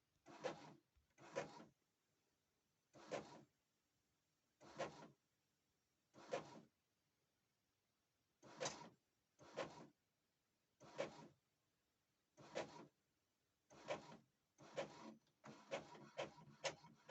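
A sublimation printer prints a phone case design, its print head sweeping back and forth in a dozen or so evenly spaced whirring passes that come faster toward the end, close and alone in a quiet room.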